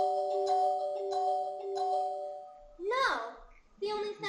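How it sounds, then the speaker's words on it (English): A small bell, the tinkling of Tinker Bell's fairy language in Peter Pan, rings in clear sustained chimes through the first half, followed by brief voices. "The only sound I hear is like a tinkle of a bell."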